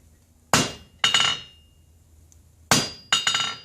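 Four sharp hammer blows ring out on silver struck with the hammer's round face against the side of an anvil, in two close pairs with a pause between, each a bright metallic clang that decays quickly.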